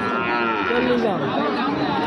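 A young native-breed bull calf moos close by at a livestock market in one drawn-out, wavering call, with faint background chatter.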